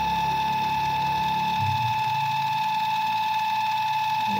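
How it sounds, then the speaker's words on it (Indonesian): The gearbox motor of a dough mixer runs at high speed, around 250 RPM, with a steady whining electric hum and faint mechanical rumble. The sound stays constant and close throughout, with no talking. "Ini paling kencang sekian 250 RPM ya."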